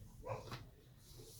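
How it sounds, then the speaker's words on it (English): A dog barks faintly in the distance, a short muffled burst as if from outside, followed by quiet background hiss. "sorry for the barking out there."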